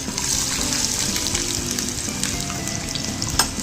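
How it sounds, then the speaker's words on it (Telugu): Grated ginger sizzles in hot oil in a kadai for a spicy ginger chutney, a steady, close, crackling fry throughout with a brief sharper pop near the end. "ఆయిల్ అనేది హీట్ అయిపోయింది దీంట్లో మనము తురుముకున్న అల్లం అనేది యాడ్ చేసుకుందాము"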